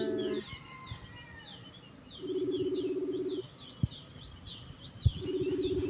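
Small birds flock together, with bursts of high, quick chirps and tweets over a low repeated cooing that swells and fades in phrases, plus a couple of soft thumps, all fairly faint and without speech.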